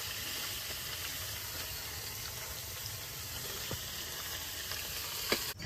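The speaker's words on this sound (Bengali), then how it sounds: "তা পুঁটি মাছগুলো ভাজা হয়ে গেছে।" Small puti fish frying in oil in a pan, a soft, steady sizzle with faint crackles and a brief stir near the end, quiet and close with no voices.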